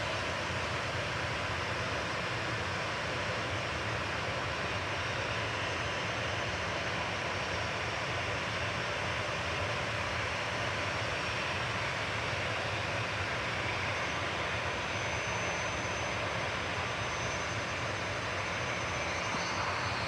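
Jet engine roar from an aircraft departing Manchester Airport for Ibiza, a steady, broad and fairly distant rumble held without change throughout, with no voices over it.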